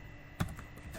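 Keys tapped on a computer keyboard while an IP address is entered during static routing setup in a router GUI: one sharp, close keystroke followed by a few faint, quick clicks in a quiet room.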